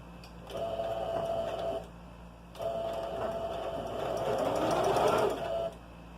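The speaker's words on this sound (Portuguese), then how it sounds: "eu vou continuar a costura com retrocesso no início e no final." Sewing machine stitching fabric for a nursing pillow, running in two steady bursts of a few seconds each with a short pause between, close and fairly loud with no talk over it.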